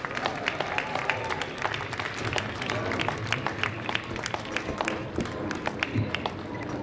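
Audience clapping at a university convocation ceremony, a sparse, scattered patter of hands across a large hall, moderately loud and uneven, with no voices over it.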